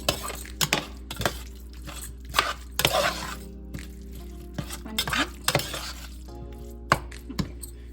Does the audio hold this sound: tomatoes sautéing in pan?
yes